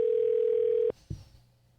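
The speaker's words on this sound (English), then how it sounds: "Calling the Hastings Museum in Nebraska." A telephone call rings out to the Hastings Museum in Nebraska: one long, steady ring tone, then an abrupt cutoff and a soft click.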